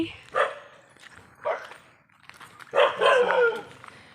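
A dog barks a few times nearby, short sharp yaps in bursts, the last run busier and louder.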